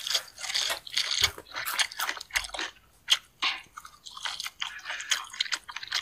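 Fried chicken bones are crunched and chewed up close in an ASMR eating session, with irregular crisp cracks and wet chewing sounds throughout and no speech.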